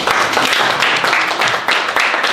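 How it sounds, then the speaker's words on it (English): An audience applauds the youth hosts at a community youth forum, the clapping dense, steady and fairly loud across the whole stretch, with no voices above it. "Let's give them a round of applause."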